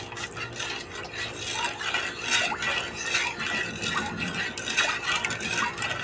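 Spoon stirring five spoonfuls of sugar into a homemade street-vendor dipping sauce, with steady scraping and clinking against the bowl, close and continuous throughout.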